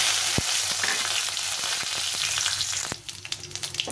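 Whole cumin seeds, dried red chillies and a bay leaf frying in hot oil in a Bengali home kitchen, a steady close sizzle with a few sharp crackles and pops, a sudden louder spit near the end, and no talking.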